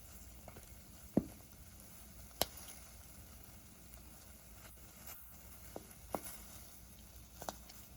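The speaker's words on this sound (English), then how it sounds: "I'll show you the rolling boil and the popping skins." Cranberry skins pop in sauce at a rolling boil, faint bubbling patter with a handful of small sharp pops scattered across the clip, quiet and close.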